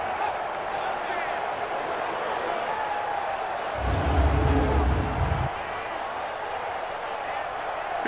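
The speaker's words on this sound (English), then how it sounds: "that might be exactly what they needed to wake up this home crowd" Home crowd noise swelling in an NFL stadium in Madden 20, a broad roar rising for a couple of seconds before settling back under steady commentary talk.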